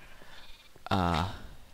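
A Minecraft sheep lets out one loud, wavering bleat close by, with quiet game ambience and faint clicks just before it.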